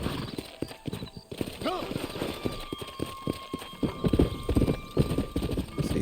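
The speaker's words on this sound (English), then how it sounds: "Vamos montar o nosso cavalo." A horse's hooves clip-clop at a steady riding pace in the Red Dead Redemption Remastered video game, close and continuous, with a brief whinny and someone talking over it.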